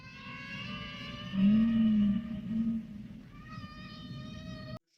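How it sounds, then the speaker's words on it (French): Humpback whale song: long, moaning, tonal calls that rise and hold steady, with a strong low swell in the middle, fairly faint and alone, ending abruptly. "aujourd'hui, vous avez pu entendre un chant de baleine"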